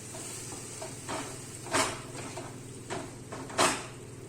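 Boiled moong beans stirred into spiced oil in a pan, a low steady sizzle broken by a few sharp scraping knocks of the spoon against the pan.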